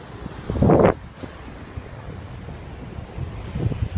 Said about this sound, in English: The wind, the breeze blowing against my face as I walk this beach in the dark, listening to the waves in the background